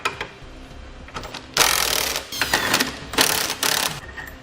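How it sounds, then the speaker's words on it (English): A 21 mm socket wrench works the long lower bolt of a 2015 Buick Enclave shock absorber, giving rapid ratcheting clicks and metallic rattles in several loud bursts close to the listener. "Next, we'll remove the long bolt that holds the bottom part of our shock absorber."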